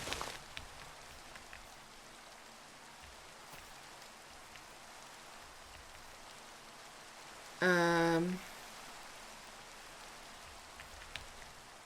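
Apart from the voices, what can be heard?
rain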